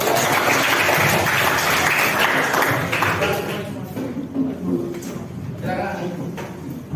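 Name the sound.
applause for a student group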